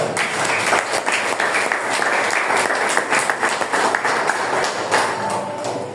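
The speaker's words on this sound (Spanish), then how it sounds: "Dale palmas al Señor" A church congregation claps together after a sermon prompt, steady dense applause filling the room for several seconds with no speech over it.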